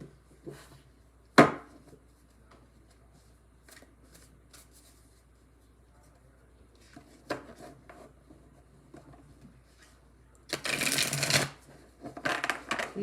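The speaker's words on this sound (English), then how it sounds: "These cards are easy to shuffle." Thin matte tarot cards being handled and shuffled: soft flicks and taps, then a quick riffling burst of thin cards near the end, with quiet gaps between.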